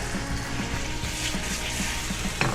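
Tomatoes sizzle in a frying pan for ratatouille, a steady close crackle and hiss with scattered small pops and a brief clink near the end.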